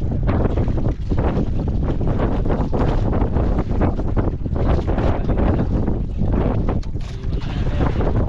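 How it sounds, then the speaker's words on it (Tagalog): Strong wind buffets the microphone in a constant loud roar, gusting unevenly throughout with a water-like rush beneath. "Mas lalong lumakas yung hangin"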